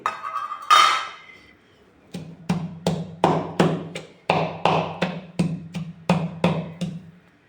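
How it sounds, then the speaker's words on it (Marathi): Spring onion greens, coriander and salt are pounded in a mortar with a heavy thudding beat, about a dozen evenly spaced strikes after an opening clatter, close and fairly loud. "कांद्याची पाते टाकते मी आणि कोथिंबीर, मीठ हे सगळं आपल्याला मस्तपैकी कुटून घ्यायचं आहे."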